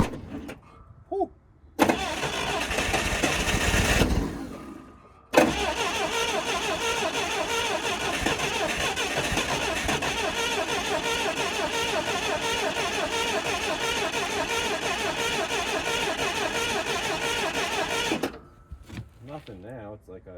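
A forklift bought at auction cranks for a few seconds, halts, then catches and runs with a steady rough engine drone for over ten seconds before cutting off, with a voice heard briefly.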